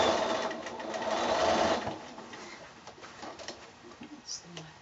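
A sewing machine stitches a row of quilting on a shoulder bag. A steady, close mechanical whirr runs for about two seconds and then fades to quieter, intermittent stitching and handling noises, while someone talks over it.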